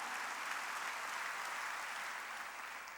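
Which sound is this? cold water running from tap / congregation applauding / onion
congregation applauding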